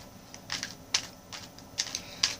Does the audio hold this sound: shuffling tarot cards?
yes